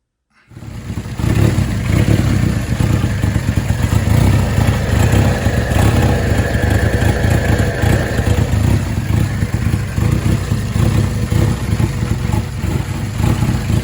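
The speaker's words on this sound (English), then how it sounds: "It's running. It is untuned. It's just got a base map, so we can get it to the dyno. So the idle's a little bit rough." A turbocharged Honda Civic hatchback engine idles roughly on an untuned base map, starting abruptly and then holding a loud, steady, slightly uneven drone up close with no talk.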